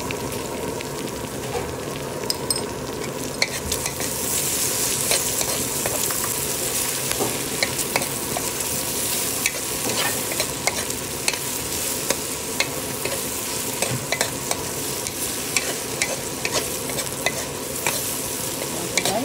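Okra and danggit (dried fish) being stirred and fried in a pan for adobong okra, with a steady close sizzle and frequent scraping stirs throughout, no talking.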